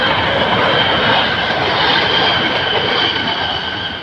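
An Endeavour train pulls into a Sydney station with a loud, steady rumble and high metallic wheel squeal, close and continuous.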